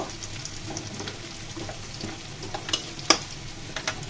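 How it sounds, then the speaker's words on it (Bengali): Nigella seeds frying in a pan for a drumstick-leaf dish, a steady close sizzle with light stirring scrapes and a couple of sharp clicks, no talking. "দিয়ে কালি জিরাটা দিয়ে আমি 2-3 মিনিট মতো রান্না করব।"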